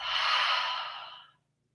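A single long, airy exhale in a lizard pose during a vinyasa yoga flow, close and steady, fading out after about a second.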